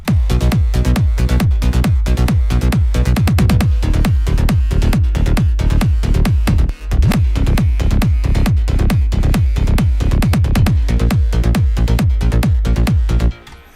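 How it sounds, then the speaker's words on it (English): An arpeggiated synth bass from a trance track made in Ableton Live pulses in fast, steady sixteenth-note runs, loud and punchy with a deep low end, continuing evenly with a brief dip midway and no talking. "And then we have an arpeggiated type of bass."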